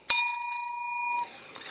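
A single bright bell ding strikes once and rings out with a clean, sustained metallic tone for about a second before fading, followed by faint clicks, a notification chime at the end of an unboxing of a wireless par can light.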